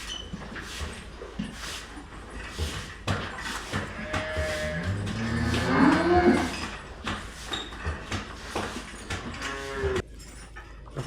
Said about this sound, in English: the cattle are lowing